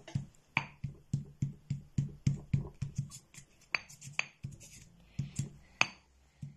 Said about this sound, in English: I'm going to crush in the pestle and mortar